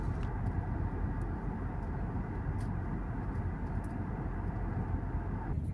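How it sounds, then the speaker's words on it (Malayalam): Passenger airplane in flight over the mountains approaching Ladakh, a steady low cabin drone that stays even throughout, with faint higher hiss and no talking. "വിമാനം ഇപ്പോൾ ലഡാക്കിന് മുകളിലാണ്"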